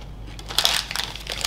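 Someone bites into and crunches white chocolate M&M's during an American food tasting, giving a short burst of crisp crunching near the microphone with no talk over it.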